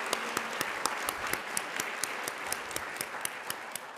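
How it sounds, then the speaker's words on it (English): A crowd at a state mock trial competition awards luncheon gives a big, sustained round of applause, with dense clapping from many people and a few sharper claps standing out. "Let's give Steve a huge round of applause."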